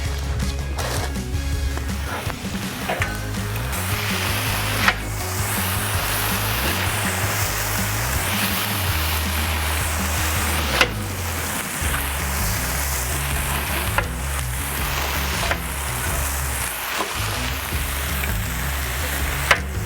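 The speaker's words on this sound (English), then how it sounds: "Serious veggies, because we are making some serious stir fry." Colourful stir-fry vegetables sizzle loudly and continuously on a Solo Stove Steelfire 30 backyard griddle, with occasional sharp spatula scrapes and taps over the constant hiss.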